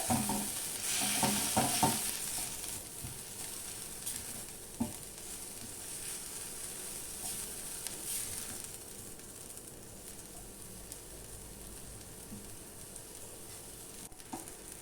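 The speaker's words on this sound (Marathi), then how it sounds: "मसाला थोडा फ्राय करून घ्यायचा गरम मसाला पावडर" Garam masala powder frying with red chilli powder and turmeric in a pan, a steady close sizzle with stirring scrapes, louder and busier in the first few seconds and then settling into an even hiss.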